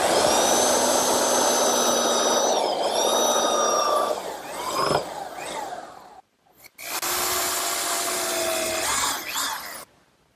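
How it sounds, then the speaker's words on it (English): A belt sander grinds excess dowel flush on a wooden writing desk frame, running loud and steady for about six seconds, cutting out briefly, then starting up again for another stretch before stopping. "now I'll just use my belt sander to remove the excess dowel."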